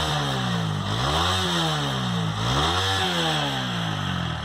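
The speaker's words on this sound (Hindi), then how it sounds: "तो ये है 164 का एग्जॉस्ट नोट।" A TVS Apache RTR 160 4V motorcycle runs close by, its exhaust note droning steadily with two rising and falling revs over a constant engine rumble, heard alone without talk.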